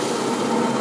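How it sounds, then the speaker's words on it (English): A vacuum runs on a BOBST DM340 die cutting machine, a steady, dense mechanical whir and rush heard close and unbroken. "There's a vacuum going on."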